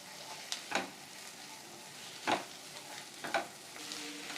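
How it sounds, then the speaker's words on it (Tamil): Ginger garlic paste being sautéed with onions and curry leaves in a pan, a faint continuous sizzle punctuated by several sharp scraping stirs of a spatula, close and quiet. "இந்த இஞ்சி பச்சை வாடை போகிற அளவுக்கு நம்மளா வதக்கிக்கணும்"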